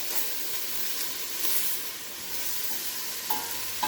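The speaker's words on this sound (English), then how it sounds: "So I'm adding just a couple teaspoons of minced garlic. Give it a stir." Minced garlic sautéing with onions in a soup pot, stirred with a utensil: a continuous close sizzle and hiss with soft scraping strokes, and no speech.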